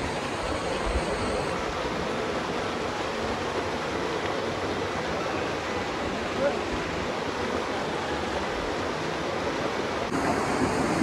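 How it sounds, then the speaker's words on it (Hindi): Bhadra waterfall at Bakore nature camp, a steady broadband roar of rushing, crashing water filling the whole stretch, loud and close with no break. "तो ये है वाटरफॉल जो हम देखने के लिए आए हुए हैं बेसिकली।"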